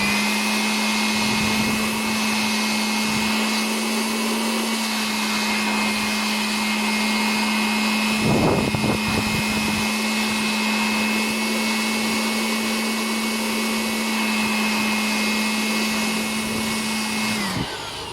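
Blower drying a removed Epson printer print head; a loud, constant droning whine runs nearly the whole time with a brief rustling disturbance midway, then cuts off at the end.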